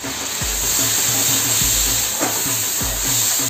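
Salt, chilli powder and green chillies for a vegetarian curry hiss and sizzle loudly in a hot pan as a splash of water hits them. A steady rush of steam runs throughout, broken by soft, regular low knocks.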